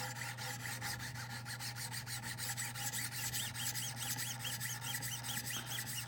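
A Hinderer knife is sharpened on a Wicked Edge guided sharpener, a steady close scraping of stone on steel in quick repeated back-and-forth strokes over a constant low hum.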